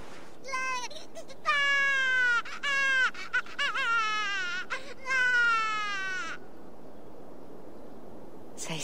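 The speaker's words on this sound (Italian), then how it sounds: "La bambina sta bene. Senti come piange." A newborn baby girl cries in Assassin's Creed Valhalla, giving a series of high, wavering wails broken by short gasps between them, close and clear against a quiet background, then falling silent.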